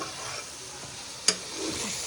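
Minced meat with peas and masala spices frying over high heat in a pan, a steady close sizzle with one sharp stirring clatter partway through, no voices.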